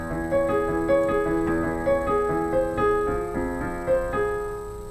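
Piano chords play in a syncopated rhythm, sustained notes ringing between anticipated changes, close and clear with no talking.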